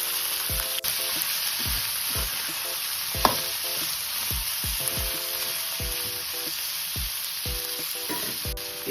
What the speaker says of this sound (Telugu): ఇదే కడాయిలో ఇంకొంచెం ఆయిల్ వేసి కోసిన దొండకాయల్ని వేసేసుకోవాలి.